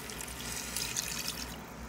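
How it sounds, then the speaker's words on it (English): Water pours into a pan of chicken curry cooking on a high flame, a soft steady trickling and splashing heard faintly and alone. "I'm going to now add water. That's 1 cup of water."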